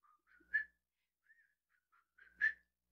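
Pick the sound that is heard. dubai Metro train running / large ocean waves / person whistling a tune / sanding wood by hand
person whistling a tune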